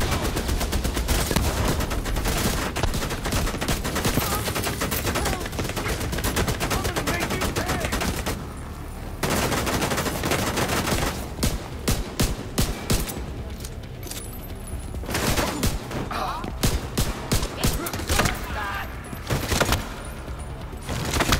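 Automated turret in The Division 2 firing sustained bursts of gunfire, loud and close, with rapid rattling volleys that break off briefly and resume in choppy clusters.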